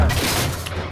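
A single heavy boom from a T-72B3 tank cannon firing in the Steel Beasts simulation game, a deep, loud blast with a rumbling low-end tail filling the whole second.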